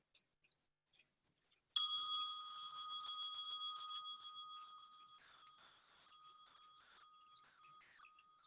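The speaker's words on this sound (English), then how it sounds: "let the sound of our temple bell guide us forward, echoing melodies of care, support, appreciation," A temple bell is struck once and rings on with a clear, layered tone that slowly fades over several seconds, alone in a quiet space.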